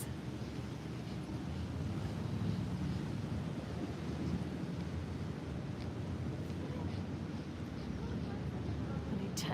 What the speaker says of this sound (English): Ujjayi breath, so that breath makes a sound like waves.